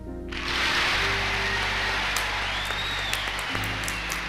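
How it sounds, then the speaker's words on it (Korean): Sustained applause from members of Congress rising in a standing ovation after General MacArthur's farewell address to a joint session, a dense, steady roar of clapping that swells in at once and holds loud throughout. "의원들 전부 일어나서 기립박수를 했습니다."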